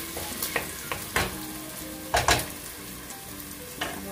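Onion and garlic sauté in a hot pan, a steady close sizzle with several short scraping knocks from stirring spread through it, no voices over it.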